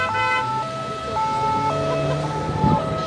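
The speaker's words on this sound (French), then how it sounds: "c'était une ambulance, la sirène que vous entendiez" A two-tone ambulance siren wails back and forth in alternating pitches, moderately loud over traffic noise.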